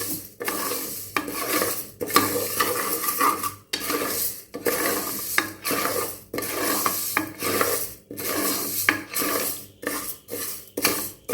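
Moong dal being dry-roasted in a pan for halwa, heard as repeated rhythmic scraping and rasping strokes of a spatula stirring the lentils, loud and close with brief pauses between strokes.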